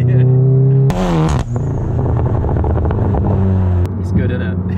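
VW Golf GTI Clubsport Edition 40 with a loud Remus exhaust, in sport mode and third gear, revs hard through a rising engine sweep, then pulls on with a steady, loud drone, heard from inside the car with people talking over it.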